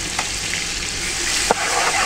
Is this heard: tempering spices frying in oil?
yes